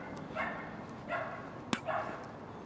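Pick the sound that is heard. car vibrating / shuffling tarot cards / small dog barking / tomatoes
small dog barking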